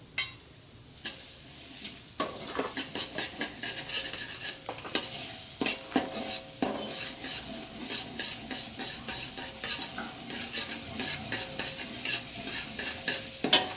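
Sautéing in margarine in a pan, a continuous close sizzle with frequent scraping and tapping of a utensil against the pan as the food is stirred.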